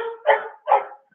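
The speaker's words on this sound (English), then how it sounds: "And now, of course, the dog wants to go outside." A dog barks twice in quick succession, close and fairly loud, wanting to be let outside in an office; short sharp yelps with a brief whine before them and silence after.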